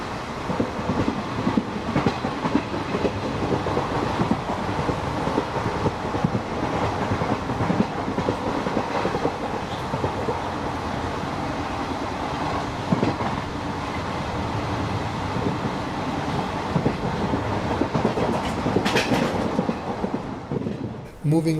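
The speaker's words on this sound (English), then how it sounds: "The train will pass through without stopping here." An express train rumbles steadily through a station in India without stopping, with rhythmic clattering of wheels on rails, loud and continuous, with a brief high squeal near the end.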